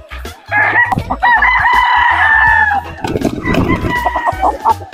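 A seven-month-old Goldenboy Sweater gamecock rooster crows loudly and close by at a gamefarm, giving one long drawn-out crow followed by clucking and farmyard noise.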